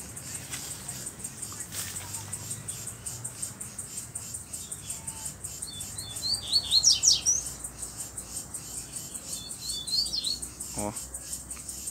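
A white-billed black seedeater (coleiro) sings in short high chirping phrases, mostly in the middle of the stretch and again near the end, over a steady background hiss with faint voices.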